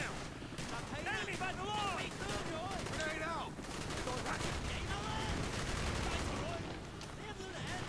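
Gunfire and blasts in the Call of Duty Black Ops campaign boat level, with steady loud shooting and explosions throughout, alongside someone talking.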